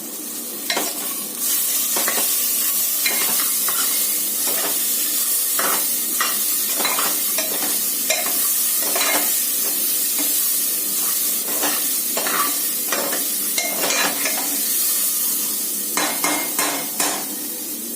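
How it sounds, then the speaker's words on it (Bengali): A ladle stirs chana dal with salt and turmeric in a hot pan, making a continuous sizzle broken by frequent scraping, clattering strokes in an irregular rhythm, close and fairly loud, with no talking. "তারপরে ছোলার ডালটাকে আমরা হাতা দিয়ে নেড়ে নিব।"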